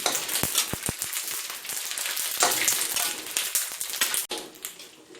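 Vegetarian braised pork rolls frying in hot oil over low heat, a dense continuous crackling sizzle with a few sharp pops and a brief clatter near the end, close and loud with no voices.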